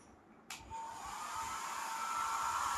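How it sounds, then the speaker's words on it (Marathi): A hair dryer switches on abruptly and runs with a steady, loud whooshing hiss while drying a Labrador dog after its bath, sustained close by with no talk. "चला ड्रायर लावा"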